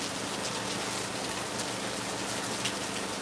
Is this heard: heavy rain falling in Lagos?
yes